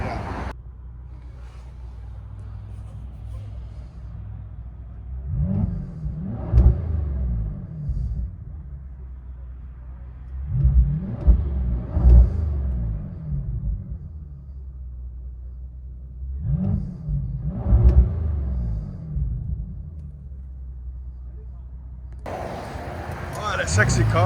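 A 2017 Bentley Bentayga 6.0L twin-turbo W12 with straight pipes revs in three distinct rising bursts at idle, deep and loud, separated by quieter rumbling pauses, with people talking around it.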